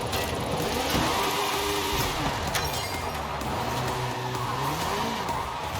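A car drifts in a driving video game, engine droning steadily while tires squeal in long wavering tones throughout, loud and continuous with no talking.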